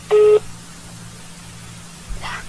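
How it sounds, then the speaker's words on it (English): A telephone line on hold gives a short electronic beep, then a fainter tone near the end, both over a low steady hiss. "Can you hear it beeping?"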